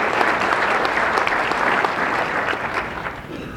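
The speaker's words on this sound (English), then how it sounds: "Another big round of applause for Jim for doing that for us." An audience at an economic forecast event gives a steady, full round of applause, many hands clapping at once in a continuous even wash that stays loud and gradually eases.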